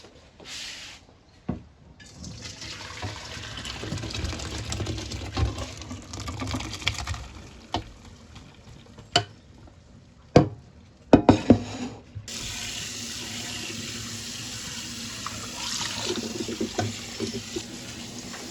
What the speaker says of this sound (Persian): در اینجا برنج کمی با آب سرد میشوریم که این نمکش اگه زیاد شده باشه بتونه خارج بشه